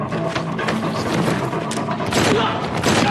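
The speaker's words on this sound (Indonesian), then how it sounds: "Dari sini terjadi baku tembak dan pertarungan jarak dekat" A dense burst of gunfire from a film shootout at a nightclub, with rapid, overlapping shots and booms that fill the scene loudly and continuously amid the chaos.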